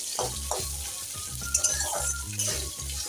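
Cut pumpkin fries in hot oil tempered with dried red chilli, a steady close sizzle broken by several scraping stirs and light clinks of a spatula against the pan.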